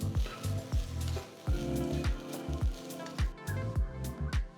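Masala rice being stirred with ghee in a hot pan, with repeated close scraping and mixing strokes over a steady sizzle, no talking.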